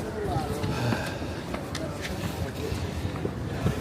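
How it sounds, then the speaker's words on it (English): Gusting wind outdoors on a cold day, a steady broadband rush with buffeting against the microphone, moderately loud and continuous throughout, with people talking faintly in the background. "Wind kicked up."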